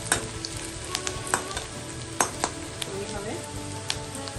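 Garlic, ginger and green chili frying in hot oil for a homemade Bengali chicken curry, a steady close sizzle with sharp clinks of a utensil against the pan, while someone briefly speaks.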